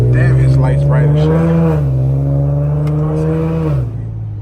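Tuned Infiniti G37 on dark backroads at night, its engine holding a steady loud drone that rises slightly in pitch as it pulls, then drops off near the end as the throttle eases.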